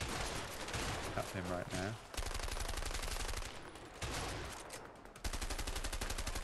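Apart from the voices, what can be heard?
gunfire in the video game A Way Out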